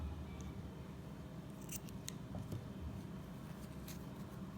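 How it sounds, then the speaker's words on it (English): Quiet scissors snipping yarn during a crochet project, a few soft, brief clicks over a steady low background hum, no talk. "you'll cut your yarn off"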